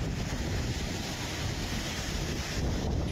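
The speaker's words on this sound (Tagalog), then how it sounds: "nakunan ng isang netizen ang lakas ng hangin na tinatangay ang bumabagsak na ulan" Typhoon wind in Casiguran, Aurora, roars continuously with a dense, hissing wash of driving rain, gusting steadily without a break.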